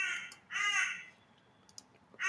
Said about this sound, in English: know whether you can hear the crows or not.